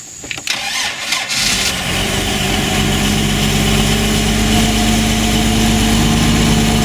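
A boat engine cranks with a few sputters as the fuel pump primes it, then catches and settles into a loud, steady, vibrating idle hum.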